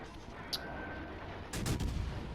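Light cruiser guns lob high-explosive shells in World of Warships Legends, a faint background hum broken by a quick cluster of sharp, booming salvo reports near the end.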